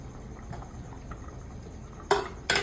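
Mutton simmers in a pressure cooker with a steady low bubbling, followed near the end by two sharp metallic clanks of the pot, and no voices.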